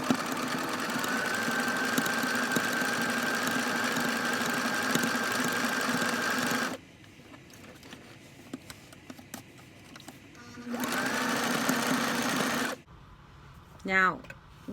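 A Brother XL 3750 sewing machine stitches fabric in two runs, a long steady whirring hum of about seven seconds and a shorter burst later, separated by a quiet pause with small clicks, close and loud.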